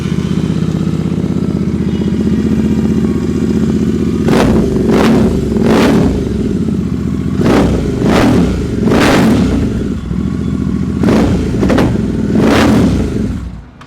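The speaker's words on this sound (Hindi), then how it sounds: "एग्जॉस्ट लगा हुआ है SC प्रोजेक्ट का which is really very loud." A motorcycle fitted with a very loud SC Project exhaust idles steadily, then is blipped through about eight sharp, close revs in quick bursts, each snarling up and dropping back to a rumbling idle.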